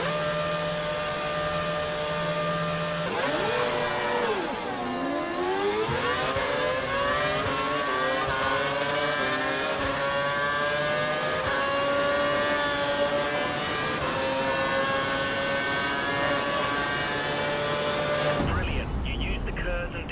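Formula 1 race car in F1 2012 overtaking: a loud, whining engine note that dips, then climbs steadily through the gears, running continuously until a sudden shift near the end, with a voice talking over it.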